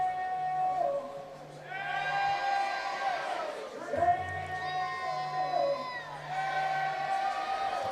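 Crowd noise at a packed baseball game at Fergie Jenkins field: a sustained roar and whoops swell and fade in waves, with high, wavering cries running through the steady din.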